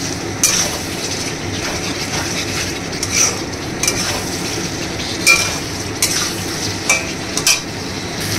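Spice paste of ground whole cumin with tomato and green chilli sautéing in a pan for a fish curry with brinjal and potato, a steady close sizzle with scattered stirring scrapes and light metal clinks, no talking.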